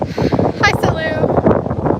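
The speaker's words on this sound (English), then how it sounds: "It's so windy, guys." Strong gusts buffet a microphone outdoors at a park, a rumbling roar running under a woman's close, continuous talk.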